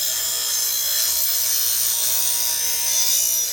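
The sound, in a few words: sharpening a dull blade by grinding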